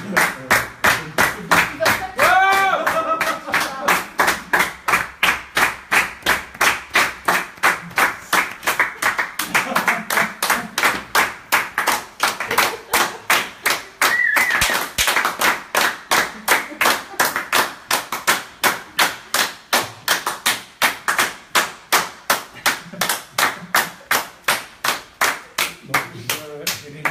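An audience at a live performance in a Paris gallery claps in a steady, fast rhythmic beat that carries on for the whole stretch, loud and close, with brief voices breaking through now and then.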